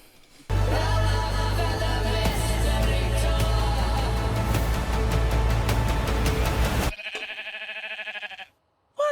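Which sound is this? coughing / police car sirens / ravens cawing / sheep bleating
sheep bleating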